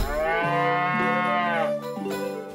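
A cow in South Park: The Stick of Truth gives a long, loud, drawn-out moo with a falling then rising pitch, followed by a shorter second call, alone and clear.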